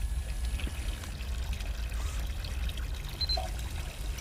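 Water pours steadily from a sink in a horror anomaly video game, a soft continuous trickle held under a low background hum, fairly faint and unbroken throughout.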